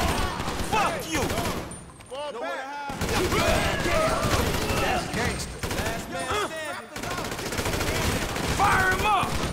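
AK rifle fire in the video game GTA 5: rapid, close bursts of automatic gunfire come in several volleys with brief pauses, while people shout and talk over the shooting.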